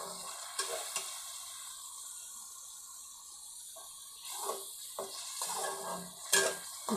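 Mutton liver (kaleji) frying in a pan gives a quiet, steady sizzle, broken by a few louder scraping and stirring bursts near the end.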